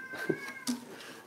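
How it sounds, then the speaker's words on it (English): A cat meows faintly, two short calls a moment apart, quiet against a soft background with no talking. "is that the cat making that sound?"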